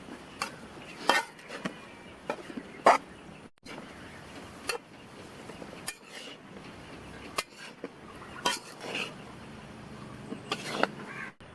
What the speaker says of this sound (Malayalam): മസാലയൊക്കെ ഒന്ന് പിടിക്കുന്ന പോലെ നല്ലോണം ഒന്ന് മിക്സ് ചെയ്തെടുക്കാം